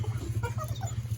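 A puppy whimpers softly near a waterfall, faint thin whines over a steady low hum, close and quiet, with no talk.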